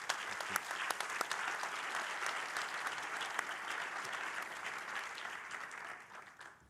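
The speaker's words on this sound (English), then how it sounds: "So thank you very much, and applause for the panel." Audience applause for a panel at a copyright conference, a steady wash of many hands clapping at moderate distance that holds for several seconds and then tapers off near the end.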